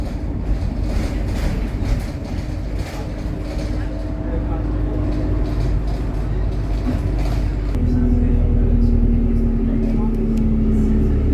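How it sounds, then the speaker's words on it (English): A moving bus carries passengers, with its engine droning steadily and the cabin rattling under a continuous low rumble, and the engine note shifting near the end. "We're in the bus, Teddy. We're in the bus."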